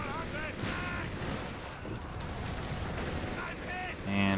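Heavy machine gun fire in the real-time strategy game Company of Heroes 3, sustained rattling bursts amid battle noise, with a caster talking over it.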